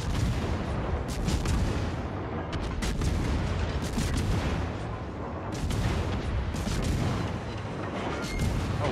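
Naval guns fire HE shells in the World of Warships game as repeated booming salvos over a dense, constant rumble of battle noise, several shots spaced a second or so apart.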